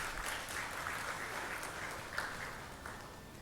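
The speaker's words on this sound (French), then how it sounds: "On peut s'applaudir mutuellement." Seminar audience claps faintly and at a distance, a soft, steady patter of applause with a few sharper claps standing out.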